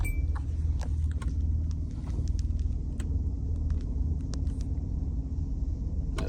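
Hyundai Santa Fe with a crusty transmission input speed sensor driving down a street, a steady low rumble of road and engine from inside the cabin with scattered light clicks and rattles.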